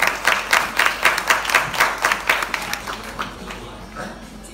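Applause at a graduation ceremony, a crowd clapping in a loose pulsing rhythm that starts strong and fades away over a few seconds.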